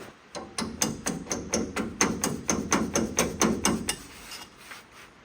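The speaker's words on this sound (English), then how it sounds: "We found a piece of belt stuck in the pulley, so we're trying to carve it out of there." Tool carving a stuck piece of belt out of a pulley on an old Mopar, a rapid even run of about fifteen sharp scraping clicks, close and loud, then stopping.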